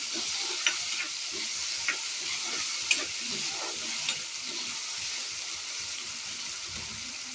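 Tomato pieces sizzle and fry in a pan for an aloo capsicum curry, a dense steady crackle broken by occasional scraping stirs, close up with no voices.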